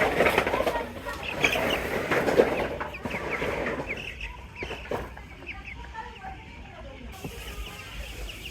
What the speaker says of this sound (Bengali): এখন আর কি মুরগি বাচ্চার বয়স 11 দিন